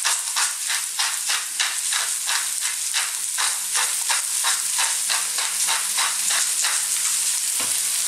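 Red onions frying in infused oil in a pan for bell pepper fried rice, a dense continuous close sizzle with a regular stirring rhythm throughout, no talking.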